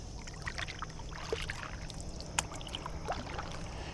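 A kayak paddle dips and pulls through the calm water of the Emory River in Tennessee, soft splashes and drips close by over a quiet outdoor background, with a couple of sharper knocks of the paddle against the hull.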